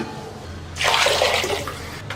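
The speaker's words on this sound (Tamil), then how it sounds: "தண்ணி வந்து நம்ம தேவையான அளவு ஊற்றிக்கலாம்." Water poured from a vessel into a pressure cooker of lentils with tomato for sambar, a steady splashing gush starting after a quiet moment and tapering off, close by and alone.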